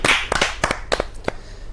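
Short burst of applause from a small audience at a Hindi poetry gathering, welcoming a poet. Sharp, uneven claps sound close, thinning out within about two seconds.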